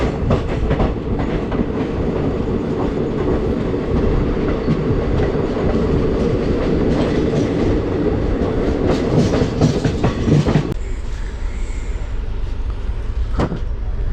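Vananchal Express passes alongside on the neighbouring track near Howrah, a loud, steady rumble with clickety-clack of wheels that cuts off sharply as the train clears, leaving quieter ambient sound.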